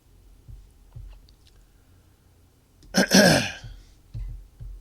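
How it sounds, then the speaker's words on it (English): A man clears his throat with one loud, raspy burst of roughly half a second, close to the microphone. Quiet breathy mouth noises come before and after it. "As I try to clear my throat."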